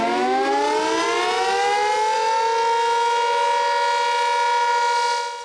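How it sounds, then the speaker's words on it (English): A New Zealand volunteer fire brigade call siren winds up in pitch and holds a loud, steady wail for several seconds, alone and without voices. "if you hear a tsunami alarm or a World War II alarm that sounds like this"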